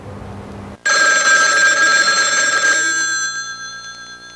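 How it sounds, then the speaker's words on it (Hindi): After a short low hum, a mobile phone ringtone suddenly cuts in with a loud, bright sustained tone that fades away over the last second or two. "मोबाइल फोन की प्यारी सी रिंगटोन आम आदमी के जीवन में हर रोज बजती है"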